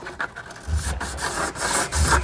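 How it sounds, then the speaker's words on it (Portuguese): Sandpaper rubbing the inside of a plastic pipe fitting while installing a grease trap, close, irregular scraping strokes with rhythmic pulses of friction. "Vamos lixar a parte interna também."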